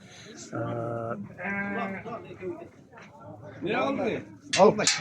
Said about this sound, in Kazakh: Кілең ешкі екен